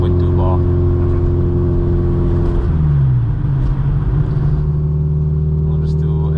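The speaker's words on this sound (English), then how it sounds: "We'll just do a second gear pull." A turbocharged car with VVT, water methanol injection and MAC 4-port boost control pulls hard in second gear, its loud engine droning and rising under load, then dropping at the shift before climbing again.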